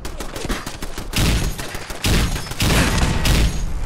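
Rapid bursts of gunfire from a modded weapon in the Fallout 4 video game, with loud, dense volleys, brief pauses and short gaps between the shots.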